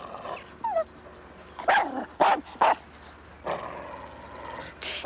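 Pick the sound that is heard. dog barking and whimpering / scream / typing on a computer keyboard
dog barking and whimpering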